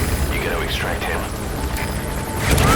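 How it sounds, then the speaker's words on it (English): Enemy gunship helicopter in Metal Gear Solid V: The Phantom Pain, a steady low rotor rumble and engine drone running throughout and swelling louder near the end, under a voice and other game sounds. "That's an enemy gunship."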